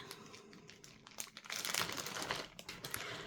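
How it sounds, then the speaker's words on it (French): Plastic packaging of a custom cross-stitch kit being unwrapped, close crinkling and crackling in short irregular bursts, no talk. "On va déballer."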